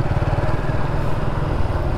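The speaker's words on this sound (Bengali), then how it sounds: "থ্রটলে আওয়াজ হয়ে গেছে" A motorcycle engine runs steadily and close by during riding practice, with a constant low throbbing drone and no distinct rises in revs.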